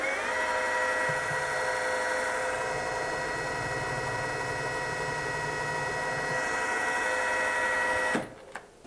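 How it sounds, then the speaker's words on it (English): A number 1 center drill spins into metal on a machine, giving a steady, close whine with a constant hum underneath for about eight seconds before the machine cuts off abruptly. "So now I'm going to do some center drilling."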